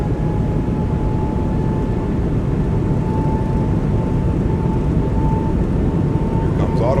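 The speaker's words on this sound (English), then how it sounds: "Here comes auto throttle. Takeoff power set." Airbus A220 jet engines spool up to takeoff power in a cockpit, a steady loud broadband roar with a faint high whine, continuous throughout.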